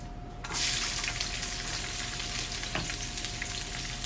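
Zucchini noodles hit hot oil and a loud, steady sizzling crackle begins, continuing evenly with faint pops close by.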